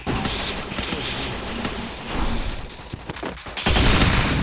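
Gunfire in a shooting video game, with dense bursts of rapid shots and a louder crackling volley near the end, all close and continuous with no talk.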